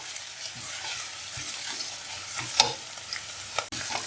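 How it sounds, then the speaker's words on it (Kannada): Onions fry in a pan with a steady soft sizzle while a utensil stirs and scrapes now and then, close up, ending with a sharp tap. "ಚೆನ್ನಾಗಿ ಹುರ್ಕೊಳ್ಳಿ."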